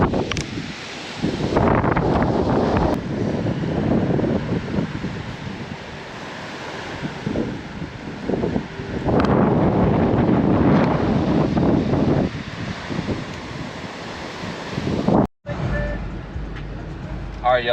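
Strong wind buffets the microphone in heavy roaring gusts that rise and fall, with a brief dropout near the end.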